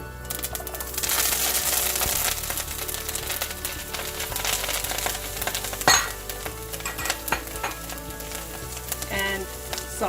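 Kale tossed into a pan of browned lentils with turmeric, sizzling steadily throughout with scraping stir strokes and a sharp clack of a utensil near the middle, up close.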